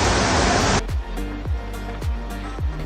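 Waterfall at Gunung Janggut in Lombok: a dense, steady rush of falling water at the start, which gives way to rhythmic low thumps and faint tonal sounds.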